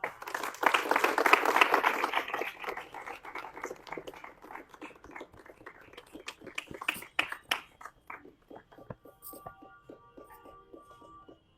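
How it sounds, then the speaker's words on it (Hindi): An audience claps at a networking event, a dense burst of applause at first that thins into scattered, uneven claps before fading out. "तालियां बजा दो यार।"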